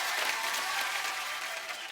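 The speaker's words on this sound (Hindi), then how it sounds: "जोरदार तालियां" A studio audience on The Kapil Sharma Show claps loudly and continuously for about two seconds, a dense, even burst of applause.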